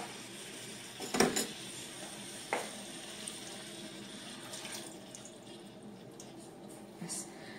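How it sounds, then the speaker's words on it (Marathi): Water is splashed by hand over cooked pumpkin (dangar bhopla) vegetable spread on a large plate, giving a couple of short wet patters followed by a soft, low background hiss. "मी आता फक्त थोडासा हक्का मारणार पाण्याचा ह्याच्यावर"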